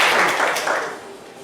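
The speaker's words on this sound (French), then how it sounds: "On va l'applaudir, s'il vous plaît." Brief burst of audience applause in a crowd, a dense patter of clapping that swells quickly and fades within a second or so.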